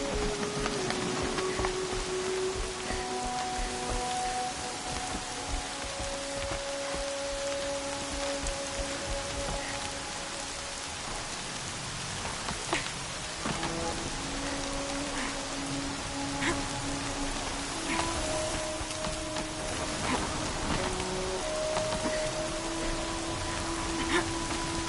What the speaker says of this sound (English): Rain's too loud to hear much.